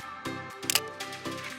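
A smartphone camera shutter fires while taking a photo on a Samsung A24 or Redmi Note 12 Pro, with a crisp mechanical-style click in the middle of a brief, quiet run of soft clicks and tones.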